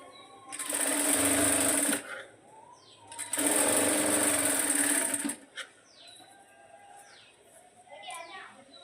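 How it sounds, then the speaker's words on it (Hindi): A sewing machine stitching the finishing seam on a long sleeve runs in two loud, steady bursts of rapid needle chatter separated by a pause, with faint bird chirps and background noise between runs. "अब इस पर हम फिनिशिंग सिलाई कर देंगे।"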